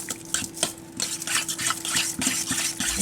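Cheese and lardons are stirred through a dish with a utensil, giving soft, repeated scraping and wet clicking strokes at a busy, uneven pace with a faint steady hum behind.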